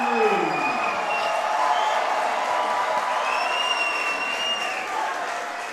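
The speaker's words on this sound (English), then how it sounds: "And listen to the crowd." A baseball crowd at an Intercounty Baseball League game between the Kitchener Panthers and London Majors roars steadily with the bases loaded, a sustained wash of cheering and clapping with a few whistles rising above it.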